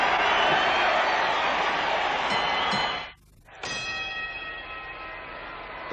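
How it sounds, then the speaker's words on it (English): A bell clangs to start round 3 of a heavyweight boxing bout featuring Muhammad Ali and Richard Dunn, ringing out over a dense arena crowd roar, followed by a brief dropout and the crowd noise returning with lingering ringing tones. "The bell has sounded for round 3"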